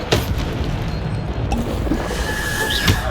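A Bombarda blasting spell in Hogwarts Legacy bursts with a loud, dense boom that roars on for a few seconds, with crackling debris and magic effects layered over a heavy low rumble.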